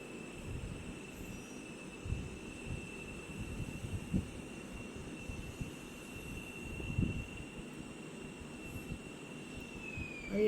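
Airplane engine in the mobile game Indian Bike Driving, a steady moderately loud jet drone with a high whine, rumbling continuously on its own with no talk.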